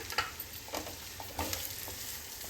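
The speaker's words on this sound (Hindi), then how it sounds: "इसे थोड़ा सा फ्राई कर लें" Garlic and onions frying in oil and butter for a masala pasta make a soft, steady sizzle, broken by occasional stirring clicks and scrapes from a spoon in the pan, with no talking.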